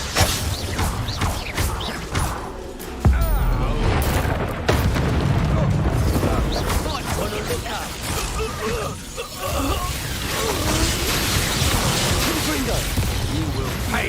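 Incendio fire spells cast in the game Hogwarts Legacy, heard as dense booming bursts and crackling blasts mixed with combat noise and a voice calling out, loud and continuous throughout.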